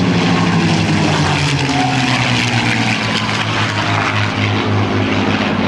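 A P-51 Mustang flies overhead in a USAF Heritage Flight at the 2010 NAS Oceana airshow, its piston propeller engine a loud, close, continuous droning roar with no gaps.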